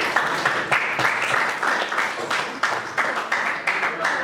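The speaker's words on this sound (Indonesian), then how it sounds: "Tepuk tangan buat kalian semua." Classroom applause, a group of students clapping in close, irregular bursts that rise and dip in loudness, with a few voices mixed in beneath the clapping.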